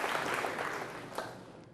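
An audience applauds at a quiz show on organ donation, a steady wash of many hands clapping that stays fairly faint and evenly sustained before tapering slightly, with no voices over it.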